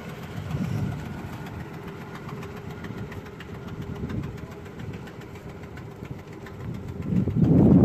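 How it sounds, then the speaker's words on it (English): An old car's engine idles nearby with a low steady rumble and faint knocking, swelling briefly and rising louder near the end, with no talk over it. "There's Neil Wampler's old car"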